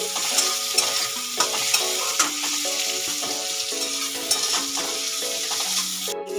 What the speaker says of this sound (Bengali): টমেটোটা দিয়ে আর কিছুক্ষণ নাড়বো।